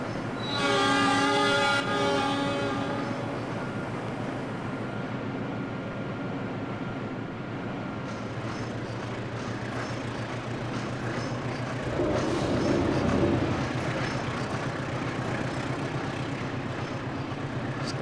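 Train passing a station in the Trainz Simulator game on an Indonesian line, with a steady continuous rumble of wheels and engine, a horn blast at the start, and a swell of noise partway through.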